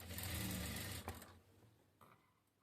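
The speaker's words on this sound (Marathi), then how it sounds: "तिथूनच आपण परत जिथं आपली संपली आहे तिथून पुन्हा स्टार्ट करणार आहोत इकडच्या साईडला शिलाई घ्यायला" Sewing machine stitching a katori blouse runs in a steady fast whir for about a second, then stops; a brief clack follows and a faint mechanical sound trails off near the end.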